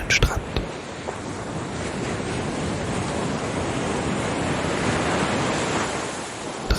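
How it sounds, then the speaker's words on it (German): Ocean waves rush steadily onto a beach, a continuous loud broadband wash of surf with wind-like hiss and a few sharper bursts at the start and end. "30 Minuten lang kannst du dem Rauschen der Wellen lauschen"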